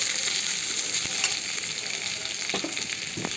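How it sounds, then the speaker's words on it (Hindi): Onions and dried chillies frying in a pan over a medium flame, giving a continuous close, even sizzle that is fairly loud, with a few faint stirring clicks near the end. "इसे भी हल्का गोल्डन ब्राउन होने तक प्याज को भून लें"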